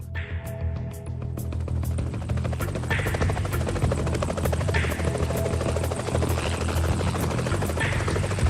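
A helicopter approaching a French Navy BPC amphibious ship, its steady loud rotor chop and turbine whine filling the whole stretch with a constant droning buzz.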